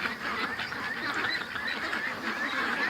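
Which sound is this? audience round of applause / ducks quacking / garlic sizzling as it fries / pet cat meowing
ducks quacking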